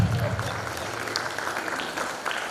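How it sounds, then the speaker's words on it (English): Concert audience at a school spring concert applauding, a steady wash of clapping from many hands at moderate level throughout, with some voices mixed in. "Yeah, you can just applause."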